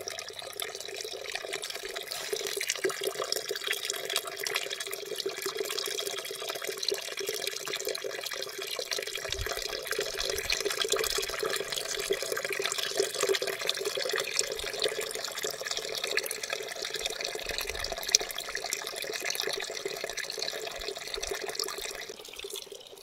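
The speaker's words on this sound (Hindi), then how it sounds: "ये देखिए नौला है गांव का ये, और बहुत पुराना नौला है।" Water flows steadily at an old village naula spring, a continuous close rushing and splashing with no pauses and no talk throughout.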